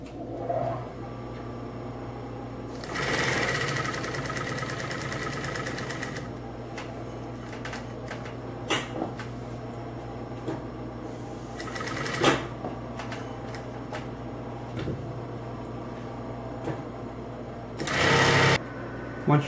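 A Singer 251-22 industrial sewing machine doing straight sewing runs in short bursts of fast mechanical stitching against a steady motor hum, with a person talking between and over the runs.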